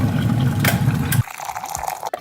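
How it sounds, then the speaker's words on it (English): Boiling water pours from a kettle onto milk tea powder and nata de coco in a cup, a loud gushing splash for about a second. Then quieter trickles and drips follow before the flow stops. "Pour the milk tea powder and the nata de coco, so both things, into the cup and add 200 millilitres of boiling"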